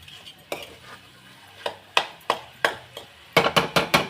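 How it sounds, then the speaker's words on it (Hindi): Jaggery being stirred into tea in a pot, a spoon clinking and scraping against the metal sides in irregular sharp taps, speeding into a quick burst of strikes at the end. "अब हम इसमें गुड़ मिक्स कर रहे हैं"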